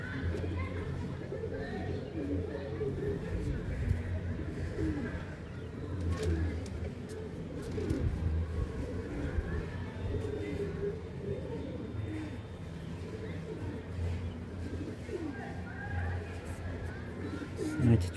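Male Chinese Malbahi pigeons coo in soft, repeated low calls close by, heard beneath someone talking over them.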